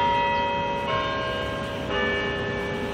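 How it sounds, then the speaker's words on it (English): Church bells ring nearby, sustained tolling tones that strike again twice and overlap as they decay, loud and steady with no talk. "First the bike, now the bell."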